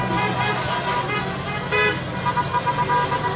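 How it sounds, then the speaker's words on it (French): Car horns honking from a passing convoy of vehicles in Paris, sounding outdoors amid traffic as several short toots follow one another under a person talking. "Les klaxons,"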